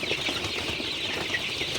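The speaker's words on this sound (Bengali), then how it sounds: "আপনারা দেখতে পাচ্ছেন আমার সোনালি মুরগিগুলো" A group of 29-day-old Sonali super hybrid chickens cluck softly at night, with low murmuring calls over a steady background hum.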